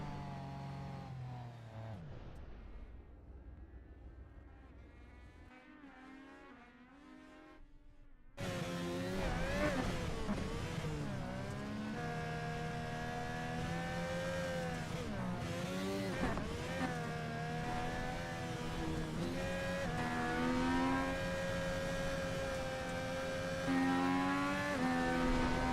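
An FIA cross car engine drones and revs hard through a lap of a dirt track, the loud steady motor rising and falling through gear changes and a jump, heard close on board with no talk.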